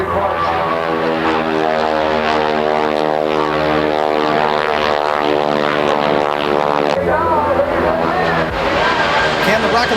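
A Super Stearman biplane's radial propeller engine drones loudly and steadily at an airshow, with strong harmonic tones, while an announcer talks over it throughout.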